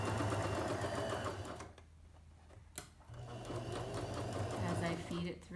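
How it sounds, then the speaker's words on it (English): A sewing machine stitches along fabric to understitch a seam a short distance from the needle, running steadily and fairly loudly, with a brief pause in the middle before the motor starts again. "As I feed it through the machine."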